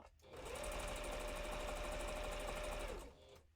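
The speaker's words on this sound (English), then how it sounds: "I'm gonna run this through the sewing machine for a second." A sewing machine runs steadily at high speed for about three seconds, a loud mechanical whir and rapid clatter that starts and stops abruptly.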